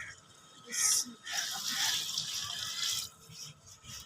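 Water poured from a measuring mug into a cooking pot for rice pulao in a village kitchen, a few bursts of splashing and running water over about four seconds, close by with faint background noise.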